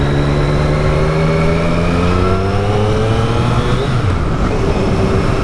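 Triumph Street Triple S three-cylinder motorcycle with its stock exhaust, a loud, steady close engine note rising and falling through revs, with no voices.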